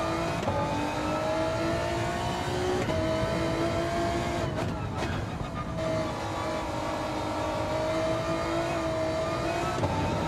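A race car engine in a racing video game revs high and sustained. Its pitch climbs and falls through gear changes, with a brief lift off the throttle near the middle, and no one talks over it.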